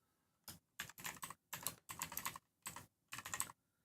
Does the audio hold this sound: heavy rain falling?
no